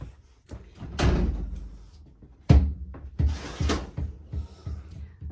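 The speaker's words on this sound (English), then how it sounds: "So the left door on the mirrored closet does slide." Sliding mirrored closet door inside a 2021 Fuzion 373 fifth wheel toy hauler RV, rolling and thumping in a few distinct close bumps and knocks with quiet gaps between.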